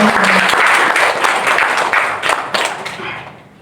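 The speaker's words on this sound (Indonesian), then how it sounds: "Beri tepuk tangan yang meriah dulu untuk Bapak Ibu." An audience at a talk show event applauds, a loud burst of many hands clapping with a few sharper individual claps, tapering off and fading out over the last second.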